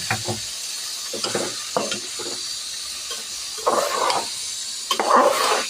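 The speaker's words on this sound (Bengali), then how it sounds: "এখন একটু ভাজা করে নেব" Rice, salt and onions are stirred in a pan while frying for pulao, with a constant sizzle broken by scraping stirs at an uneven rhythm, close and fairly loud.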